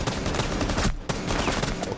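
Rapid gunfire crackles densely throughout in a Rainbow Six Siege match, loud and close, with a brief near-silent gap before the shooting resumes; no talking.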